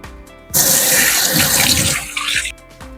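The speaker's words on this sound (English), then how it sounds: "I'm gonna rinse my hand." A kitchen tap gushing loudly for about two seconds as a hand is rinsed while shrimp and veggies are being cooked, a broad steady hiss of running water that stops abruptly.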